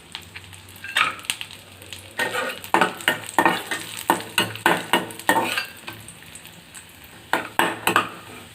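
Almonds and raisins frying in a pan for aval kesari, with a steady sizzle broken by a run of rhythmic spoon scrapes and stirring clinks, close and fairly loud, no voices.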